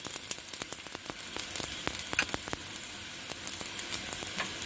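Aloo thalipittu, a potato and semolina flatbread, fries in oil in a pan with a steady close sizzle. Sharp crackles and pops run through it, with no talking.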